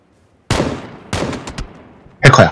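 Gunfire in PUBG (PlayerUnknown's Battlegrounds), three loud, sharp bursts spread over a couple of seconds, the last one the strongest, with silence before the first.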